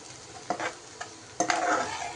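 Onions frying in sesame oil in a pan for an egg dish, heard as close stirring scrapes and soft bursts of sizzle in short irregular strokes.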